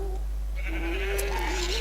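A sheep bleats in Minecraft, one wavering, drawn-out bleat heard close and clear over a steady low hum.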